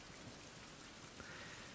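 Rain falls in a jungle survival video game as a faint, steady, even hiss of drops with no pauses.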